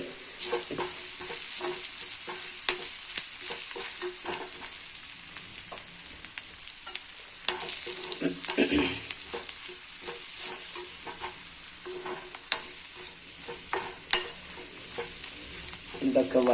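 Spiced masala with chili powder and turmeric is sautéed and stirred in a pan, giving a continuous sizzle and fry broken by clinks and scrapes of the utensil.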